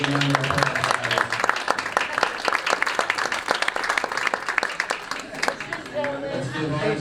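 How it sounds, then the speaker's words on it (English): Sustained applause fills a 9-ball pool championship venue for a winning bar-table champion, a steady wash of many hands clapping for several seconds before it thins out, with crowd chatter underneath. "Give him a big round of applause."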